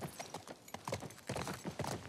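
Shimmer the horse in The Last of Us Part 2 clip-clops in a quick, even run of hoofbeats, close and fairly soft, with no talking over it.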